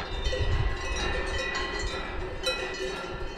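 Cowbells ringing from cows grazing on an alpine pasture on a cycling route over Samnoz, a steady metallic clanging spread across the clip with wind and no voices.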